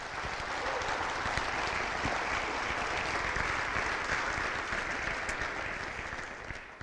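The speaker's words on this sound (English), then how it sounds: "One more round of applause." Audience at a high school National Honor Society induction ceremony gives a sustained round of applause, dense even clapping from a large crowd that holds steady and only slightly tapers at the end.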